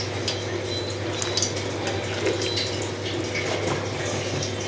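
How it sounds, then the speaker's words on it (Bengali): Prawn and potato curry bubbling in a pot, a steady close simmer with faint sputters and liquid churning, alone without talk. "ফুটে গেছে, এবার চিংড়ি মাছগুলো দিয়ে দেব।"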